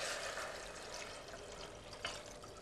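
Water pours into a cooking pot in a kitchen: a steady, fairly quiet splashing hiss that keeps going with only slight changes in strength.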